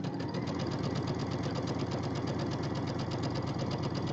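Sewing machine running steadily while piecing a quilt, stitching a quarter-inch seam: a fast, even mechanical whir with rapid needle clatter, close and alone, no talking.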